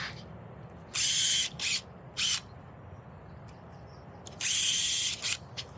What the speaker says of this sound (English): Drilling a couple of pilot holes